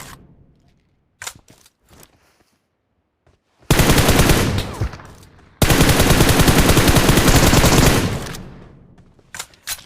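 Rapid automatic gunfire in the PUBG Mobile battle royale game: a few scattered single shots, then two long, loud, sustained bursts of machine-gun fire separated by a brief pause, with no talking.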